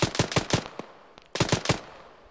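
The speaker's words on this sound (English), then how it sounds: "They're taking sporadic fire from the far left." Rapid automatic gunfire in a military video game: a quick burst of several loud, sharp shots, a lone crack, then a second burst and a final shot, all close and clear with no talking.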